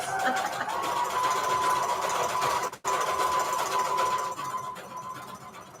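A sewing machine in need of oil runs steadily with a continuous whirring hum, pausing briefly midway before resuming, fairly close and alone.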